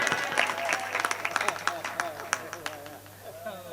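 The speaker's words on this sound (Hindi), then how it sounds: "बात समझ में आई हो तो ताली आना चाहिए" A poetry-recital audience claps in a burst of applause, a steady patter of hands that thins out toward the end, with a voice talking over it.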